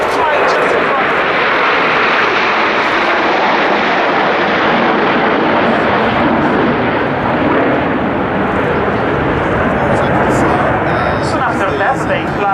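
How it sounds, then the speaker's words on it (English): The ten jets of the Frecce Tricolori Italian Air Force display team flying past in formation at an airshow, a loud continuous roaring jet rush that fills the whole stretch. "this will be the only time that we'll see all the 10 aircraft all together flying just in front of us"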